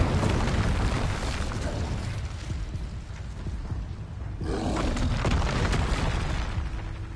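Incendio fire spell cast repeatedly during combat in Hogwarts Legacy on PS5, a loud, dense roar of fiery booms and bursts that rolls on throughout, dipping briefly midway before surging again.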